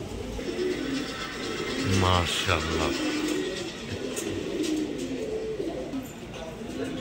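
Pigeons at a Bangladeshi pigeon seller's loft coo in a soft, throaty run of low calls near the middle, mixed with a steady background hum while someone speaks briefly.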